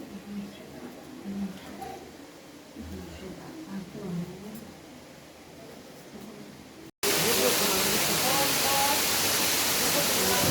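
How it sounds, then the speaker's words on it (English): Waterfall at the Khuludi falls by the Giriswara Shiva temple, heard as steady broadband rushing water: faint and distant under low talk at first, then suddenly loud and close as a constant roar for the last few seconds. "This is the waterfall."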